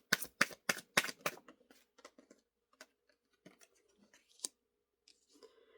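Tarot cards being shuffled close up in a series of crisp riffling bursts at the start, then scattered lighter card clicks and taps that thin out toward the end.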